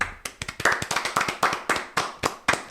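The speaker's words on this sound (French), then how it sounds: "Tu t'applaudis toi-même." One person applauding themselves, close-miked, with about a dozen sharp, fairly even hand claps at a quick steady rhythm and no talking.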